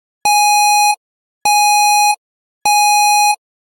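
A detector alarm sounds three identical loud electronic beeps, each lasting about 0.7 seconds and separated by silent gaps, rendered in a computer-style error sequence.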